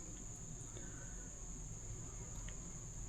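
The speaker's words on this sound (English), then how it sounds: "Insects and frogs are making noise, is what I meant." Insects and frogs call at evening outside a secluded cabin near Williamson, West Virginia, a faint, continuous high-pitched drone that holds steady throughout.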